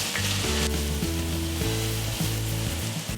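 Mushrooms frying in butter and oil in a hot pan, a loud, steady crackling sizzle with scraping stirs from a utensil moving them around.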